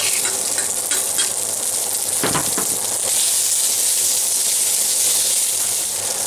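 Sausage sizzling in a Stargazer cast iron skillet, a loud continuous hissing fry with a few scraping stir sounds near the middle, close and steady throughout.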